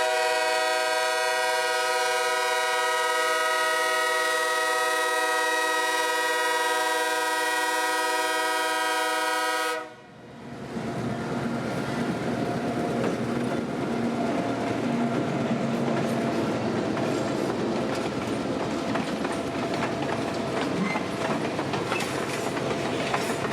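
A train passes trackside in Central Florida: a loud sustained horn blast gives way to a roaring rush of wheels and rail clatter as the cars go by close and loud.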